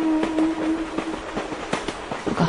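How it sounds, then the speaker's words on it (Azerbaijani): A departing train rolls along the rails, giving irregular metallic clacks of the wheels over a faint steady tone, moderately loud and without speech. "Qatar tərpəndi."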